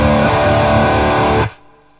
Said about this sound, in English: So we're going to play an open power chord, bottom string